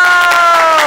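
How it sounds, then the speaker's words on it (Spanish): A short burst of loud, close cheering from a small group celebrating a graduate at a final class certificate ceremony, with raised voices ringing out, lasting under a second. "Un aplauso para Esperanza Andrade."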